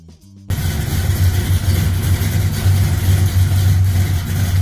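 A Chevrolet Mighty Mouse small-block V8 racing engine fires up after a brief quiet start and then roars loudly and continuously, its deep throbbing rumble revving close by.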